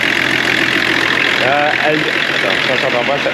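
A car engine with a suspected head gasket fault idles steadily and loudly with a fast rattling clatter throughout, while someone talks over it.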